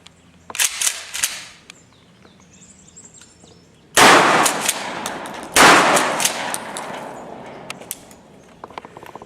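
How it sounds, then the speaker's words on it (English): A Mossberg 500 shotgun with an Adaptive Tactical Venom recoil-reducing stock fires two loud, close booming shots a couple of seconds apart, each with a decaying tail, after some lighter clicks and handling noises. "I'm going to shoot some of this Spartan again."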